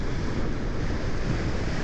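Large ocean waves surging and washing at sea around a boat, a dense continuous roar of surf mixed with wind buffeting the microphone, loud and unbroken with no voices.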